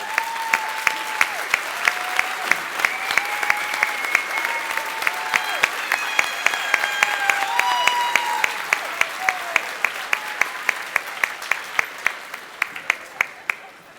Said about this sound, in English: let's give them a round of applause to express our great appreciation for the role they played.